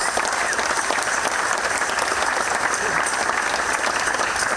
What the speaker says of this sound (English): Please, one round of applause.